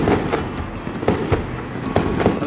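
Dozens of fireworks pop and crackle in a dense, irregular barrage somewhere off in the distance, with sharp bursts scattered over a steady roar of wind or road noise in an open desert setting.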